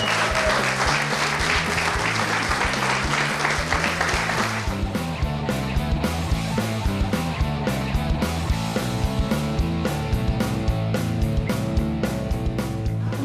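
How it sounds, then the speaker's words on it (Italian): An audience at an Italian pizza school course claps in a dense, sustained round of applause, with music-like tonal sounds running underneath throughout. "Un applauso."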